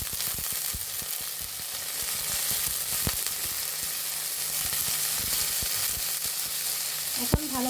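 Garlic, chopped onion and green chillies fry in a pan with a steady broadband sizzle, broken by scattered clicks and scrapes of stirring and a sharper knock near the end; no voices.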